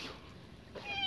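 A cat meows once, close and clear, rising near the end of a brief quiet stretch in a kitchen where fish innards are being handed out to cats.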